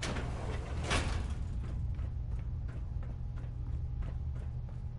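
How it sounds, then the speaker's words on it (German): Heavy mechanical door opening in Fallout 4, a sliding grind with a sharp burst near the start followed by faint rhythmic ticking clicks over a steady low hum, no voices. "Ich öffne den Haupteingang."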